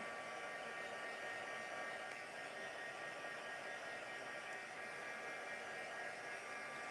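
A crafting heat tool blowing hot air to dry ink on paper, a steady loud whirring hiss with a faint whine, unchanging throughout and with no talk.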